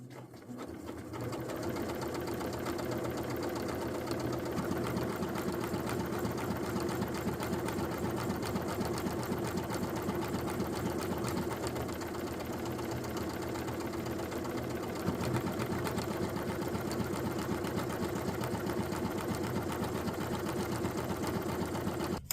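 A sewing machine stitches fabric for a Simplicity 8614 garment, its motor and needle whirring in a steady, even run for about twenty seconds at moderate volume.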